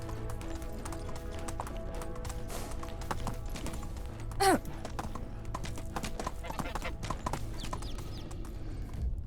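Horse hooves clip-clopping at a steady rhythm while riding in the Medieval Dynasty video game, soft and continuous, with a brief whinny midway and faint talk underneath.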